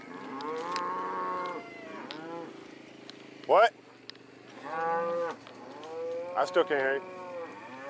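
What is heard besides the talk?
cows mooing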